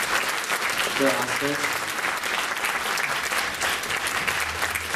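Sustained applause for a hospital intensive care team at a ceremony, dense clapping throughout with a voice speaking briefly over it.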